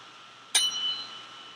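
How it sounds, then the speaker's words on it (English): A tuning fork is struck once with a bright metallic onset, then rings with a sustained pure tone that slowly fades in a quiet room. "So the fork is ringing out nice and clear"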